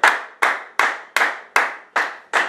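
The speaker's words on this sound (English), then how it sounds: "Let's give him another hand clap of praises." A church congregation claps hands in praise in a steady rhythm of seven sharp, loud, evenly spaced claps, with no voices over them.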